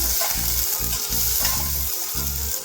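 Crushed garlic and chopped tomato sizzle and fry loudly in a hot pan, a continuous close crackle with rhythmic stirring scrapes and no talking.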